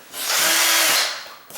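A power drill whirs at high speed for about a second, winding up and down during work on a door latch and strike plate, close and alone with no voices.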